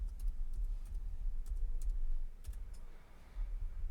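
Quick bursts of typing on a PC or laptop keyboard, a few clustered light key clicks with short pauses between them, close and fairly quiet with no talking.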